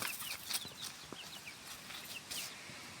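Two-week-old chicks on a straw bedding cheep and cluck in soft, scattered high calls, fairly faint with a few louder peeps, over quiet background rustle.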